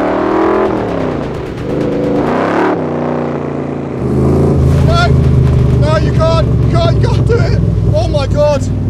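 A Factory Five Mk4 Roadster engine revs hard, climbing and falling in pitch through a loud, raspy roar, with a voice heard partway through.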